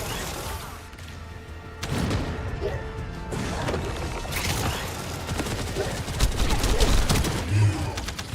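Heavy-recoil weapon fire in the video game The First Descendant, dense rapid bursts of shots and impacts running through most of the stretch, loud and close, with game sounds and a voice mixed in.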